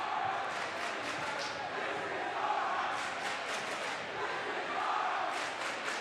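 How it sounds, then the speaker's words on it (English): Basketball fans of the Lawrence side cheer and shout together in a high school gym after a boys varsity game, a dense steady crowd roar with scattered yells and no clear pauses. "Disrespect from the Lawrence fans cheering"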